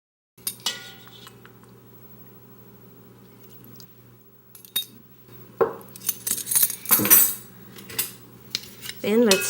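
Utensils clink and scrape against a dish while tossing marinated broccoli with lemon juice and nama shoyu, sparse taps early then a busier cluster of close, bright clatters.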